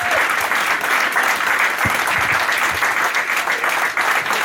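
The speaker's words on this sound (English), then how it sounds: "Can we have an amazingly big round of applause for those girls?" An audience at a football club AGM applauds, a dense, sustained clatter of many hands clapping at close range, steady and loud throughout.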